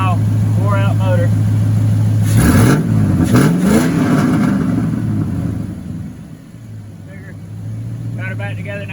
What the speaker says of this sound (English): But old truck sounds good, not too bad for a high mile, wore out motor.